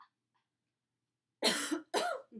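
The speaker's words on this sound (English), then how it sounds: "Will you provide a big cough for me" Two forceful coughs in quick succession after a stretch of silence, close and loud, followed by a brief breathy exhale.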